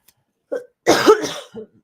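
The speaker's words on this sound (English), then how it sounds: "I am sick of coughing." A person coughs close up, a short hack followed by a harsher, longer cough and a small trailing one.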